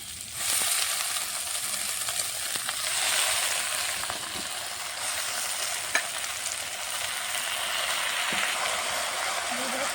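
Boiled pumpkin leaves with garlic and green chili frying in a pan with a steady close sizzle, broken by occasional spoon clinks and scrapes, with faint voices in the background.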